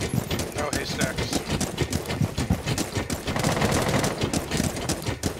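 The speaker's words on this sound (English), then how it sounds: "Shooting that window." Gunfire in Rainbow Six Siege aimed at a window, a dense run of sharp shots and impacts crackling throughout, with a voice talking in the mix.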